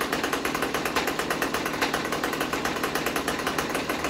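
A Ryobi petrol line trimmer with an edger attachment runs on choke after a cold start, its small two-stroke engine buzzing loudly and steadily with a fast, regular pulsing rhythm close by.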